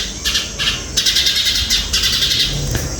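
House sparrows chirping in quick repeated bursts, close by and fairly loud, with a steady background hiss.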